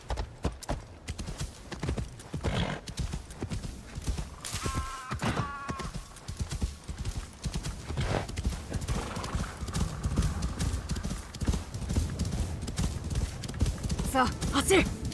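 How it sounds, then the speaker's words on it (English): A horse in a video game gallops over a frozen lake, with steady clip-clop hoofbeats and a brief whinny, heard under a person's talking. "My horse is okay with frozen over lake."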